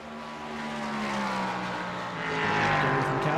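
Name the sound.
GTP and LMP3 race cars in iRacing video game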